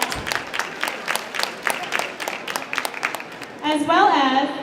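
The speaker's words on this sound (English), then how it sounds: "let's give him a round of applause," Applause from guests at an evening awards gathering honoring community service, clapping in a steady patter that gives way to a voice near the end.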